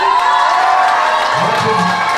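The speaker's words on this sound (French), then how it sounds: "À vous, on applaudit." Wedding guests at a civil marriage ceremony erupt in loud cheering and whoops, with voices shouting and hollering over a crowd.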